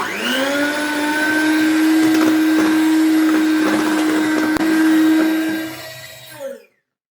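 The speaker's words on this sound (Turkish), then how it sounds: "Küçük devirde birazcık çırpacağız" Electric hand mixer whipping lemon cake batter with baking powder and vanilla at low speed, a steady motor whine running several seconds before winding down and stopping.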